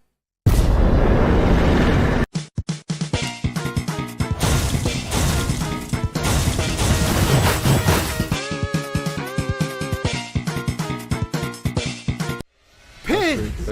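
Video game explosions boom and crash repeatedly amid busy game music and effects, loud and dense, with a person talking over them.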